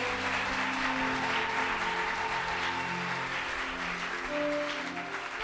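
A church congregation applauding together, sustained even clapping with a low hum of organ or keyboard tones beneath, moderately quiet and continuous throughout.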